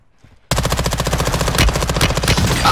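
Rapid automatic gunfire in Call of Duty Warzone Resurgence breaks out after a quiet half second, a loud, dense burst of rattling shots that continues to the end.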